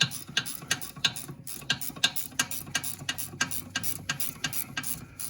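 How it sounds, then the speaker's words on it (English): A gear wrench ratchets on the rear brake caliper bolts of a Volkswagen Passat, giving quick, close, repeated clicks in a steady back-and-forth rhythm, alone with no talk. "Okay, now I get my gear wrench."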